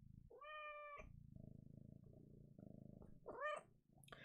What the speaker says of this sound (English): You guys hear him purring?